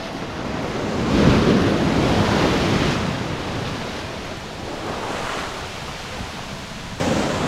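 Ocean waves wash onto a beach at Paraty, Brazil, a continuous broadband surf roar that swells and recedes over several seconds, with light wind noise on the microphone and no voices.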